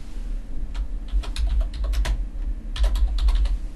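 Close computer keyboard typing as a new name is entered, a quick irregular flurry of crisp key clicks over a low steady hum, with no speech.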